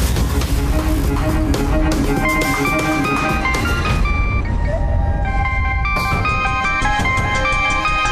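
A mobile phone left lying in a room rings with a loud, looping melodic ringtone that plays continuously for several seconds over a dense background.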